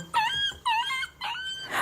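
A small dog whines in three high, drawn-out wavering cries with brief gaps between them, close and fairly loud with no talking over it.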